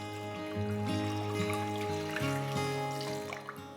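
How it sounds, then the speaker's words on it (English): Veggie stock poured into a stock pot gives a faint, continuous trickling splash beneath a louder layer of steady melodic background music. "2 cups veggie stock."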